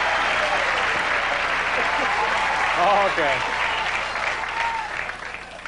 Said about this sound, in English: what do you say you give a nice hand, a nice round of applause